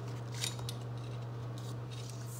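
Scissors cutting a paper strip for a junk journal tag, a few faint crisp snips over a steady low hum in the room.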